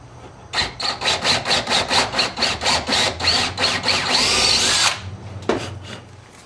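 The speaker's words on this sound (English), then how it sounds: "I've drilled my hole 1 inch deep" A power drill bores a one-inch-deep hole into a wooden board, whirring in a steady series of pulsing bursts before a higher sustained run and abrupt stop, close and loud.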